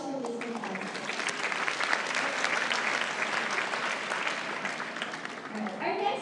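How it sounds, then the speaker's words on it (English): An audience at an investment presentation claps for a speaker in sustained, dense applause that holds steady for several seconds and fades slightly at the end. "round of applause for Mr. Fausto"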